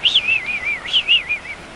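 A high, wavering whistle rising and falling in two short runs of pitch sweeps, fading toward the end, imitating the call of a male blue-footed booby.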